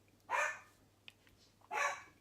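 Two loud, close dog barks, each about half a second long and well apart, with quiet room background between them and no talk.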